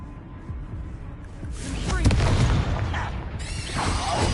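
Confringo explosion spells in Hogwarts Legacy go off as booming blasts with crackling bursts, loud and layered, mixed with game effects and shouting voices.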